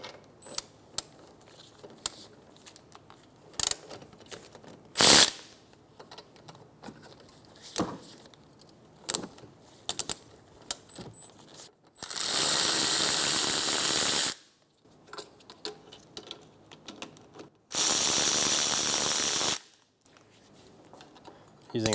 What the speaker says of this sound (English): Remove your caliper bolts using a 14mm socket.